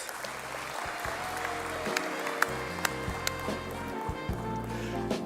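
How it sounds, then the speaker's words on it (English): An investment conference audience applauds in a steady, dense wash of clapping that carries on under low, steady background tones throughout. "Can we give her a round of applause?"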